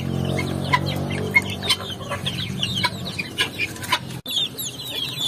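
Several native chickens cluck and chirp nearby in a busy, uneven chatter on a farm, with soft peeps from chicks mixed in.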